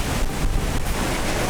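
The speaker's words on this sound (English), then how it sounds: "more waves, more fun" Ocean surf breaking on Dahican beach in Mati, Mindanao, Philippines, a steady broadband wash of waves with wind buffeting the microphone, continuous and fairly close, with no voices.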